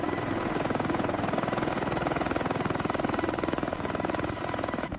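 A CH-53K King Stallion, the largest American heavy-lift helicopter, thunders close by with a loud, steady rotor throb and dense turbine roar that holds strong for the whole stretch, no voices over it.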